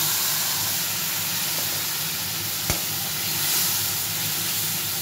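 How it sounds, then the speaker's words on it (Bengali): Spice paste loosened with water sizzles steadily with tempered mung dal in a pan for a bottle gourd and tangra fish dish, a close, constant frying hiss with one brief scrape of stirring and no talk. "একটু মশলাটা কষিয়ে নিই।"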